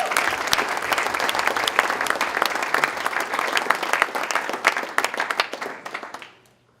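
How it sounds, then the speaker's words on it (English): A room full of dinner guests claps at the Pickleball Hall of Fame 2017 inductee ceremony, with sharp individual claps standing out in lively, sustained applause that tapers off at the end. "I think that deserves a great round of applause."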